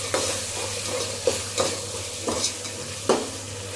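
Chicken with turmeric and spices being stirred in a pot for biryani, a soft steady sizzle broken by several distinct scraping strokes of the spoon against the metal, close and fairly quiet.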